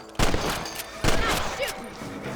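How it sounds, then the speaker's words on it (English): A rifle fires at rabbits in Red Dead Redemption on PS5 with two sharp, loud shots about a second apart, set over continuous game ambience and faint voices. "Get your rifle out. It's about time these little thieves met their maker."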